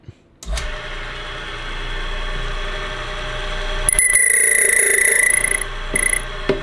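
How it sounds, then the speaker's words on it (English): A Framon 2 key cutting machine switches on with a sudden thump and settles into a steady motor hum, then grows louder with a bright, high grinding whine as the key is cut, stopping and resuming briefly near the end. "we just wanna turn on the machine, and I'm just gonna make the cut"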